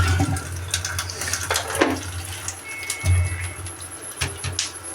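Water pours and splashes into a bowl of cut eggplant in a home kitchen, an uneven close trickle and slosh with scattered clinks.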